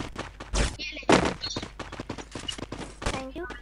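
Shotgun blasts in a battle royale video game, several sharp, moderately loud shots spaced irregularly over a few seconds, with game sounds and someone talking in between.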